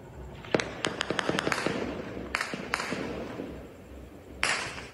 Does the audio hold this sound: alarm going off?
no